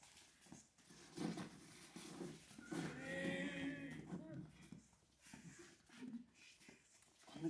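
Cattle moo in a staged Bible drama scene set on the grassy banks of the Nile, where seven plump cattle graze; a few low, drawn-out moos, probably voiced by performers, rise amid quiet chatter and faint background noise.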